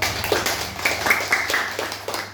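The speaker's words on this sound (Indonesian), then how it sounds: "Tepuk tangan untuk Angel." Schoolchildren in a combined fifth- and sixth-grade classroom clap for a classmate, a quick run of sharp, evenly spaced claps mixed with murmuring young voices nearby.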